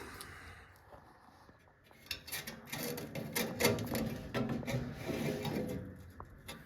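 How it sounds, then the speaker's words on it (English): A wire brush scrubs rust from car body metal, starting quiet and growing into busy rasping, scratchy strokes with sharp bright bursts, close by but fairly soft overall. "I cleaned all that out with a wire brush"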